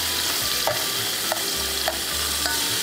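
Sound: bacon, ham and onion frying and stirred in a pan

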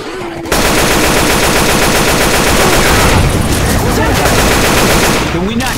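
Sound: gunfire in Left 4 Dead 2 video game

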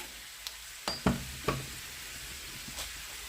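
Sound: potatoes frying in a pan

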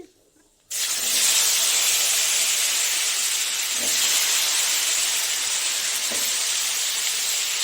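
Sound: potatoes frying with cumin tempering in fish-frying oil

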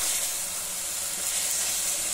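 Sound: coriander, green chili, ginger, garlic masala frying in oil

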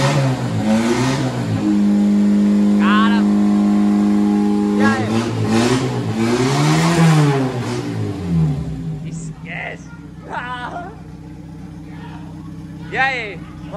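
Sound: Volkswagen Gol engine running and revving

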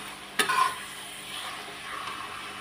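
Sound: roasting coriander powder and garam masala in pan

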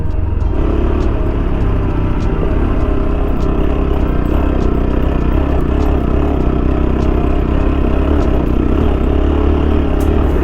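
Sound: car driving uphill on a trek road

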